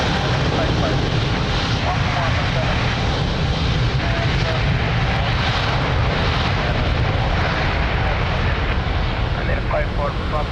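Airliner taking off from runway 02 at Lisbon Airport, a loud continuous roar of aircraft engines filling the whole stretch at close range.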